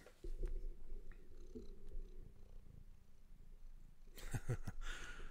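A person imitating a cat's purr close to the microphone: a soft, steady, low rumbling purr that runs for several seconds, followed by brief rustling and handling noise.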